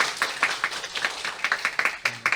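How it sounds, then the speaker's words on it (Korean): An audience at a school project briefing in a hall gives brief applause, a scattered run of moderately close hand claps with uneven rhythm, without speech over it. "큰 박수 부탁드리겠습니다."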